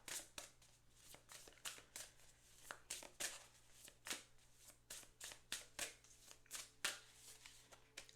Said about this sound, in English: I shuffle a lot now.